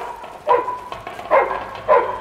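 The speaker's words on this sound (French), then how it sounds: "Des chiens, toujours des chiens près des villages." Dogs bark near a village, giving three short, sharp barks spaced about half a second apart, moderately close and clear against a quiet background.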